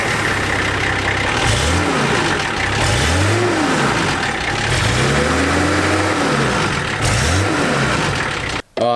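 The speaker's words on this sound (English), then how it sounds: "quickly start the car and have a listen to what it sounds like" A Nissan Patrol with a naturally aspirated TD42 diesel engine and stock exhaust starts and revs repeatedly, each rise and fall of the engine note loud and close, with a steady idle between the revs and a sudden cutoff at the end.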